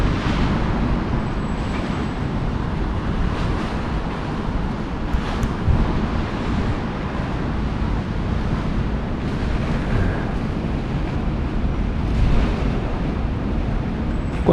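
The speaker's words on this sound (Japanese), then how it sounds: "波がガシャガシャガシャガシャ言ってる。" Small waves slosh and splash steadily against the Hong Kong harbourfront near East Tsim Sha Tsui, a continuous watery wash mixed with wind rumble on the microphone and no voices.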